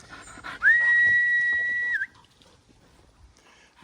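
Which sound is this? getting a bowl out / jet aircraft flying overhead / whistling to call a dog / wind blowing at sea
whistling to call a dog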